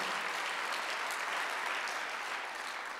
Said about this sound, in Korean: 누구든지 내 이름으로 구해라. 그럼 주신다고 요한복음 14장에 쓴 걸 본 사람만 박수하세요